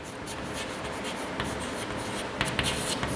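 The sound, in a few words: writing place values on paper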